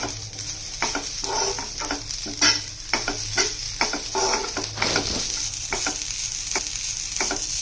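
Grated coconut dry-roasting in a pan for sukkha chicken masala, a soft steady sizzle with repeated scraping strokes of a spatula at a regular pace, close and moderately quiet.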